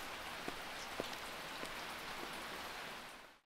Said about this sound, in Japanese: 大雨と雷と突然の停電